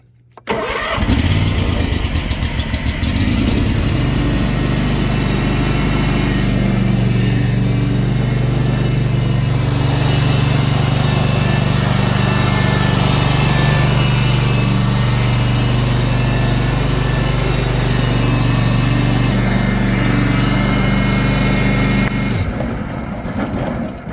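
A John Deere Z530R zero-turn riding mower, started cold with the choke pushed forward and poorly maintained, cranks and catches, then runs at a loud, steady close-up engine drone before cutting out, with no talk.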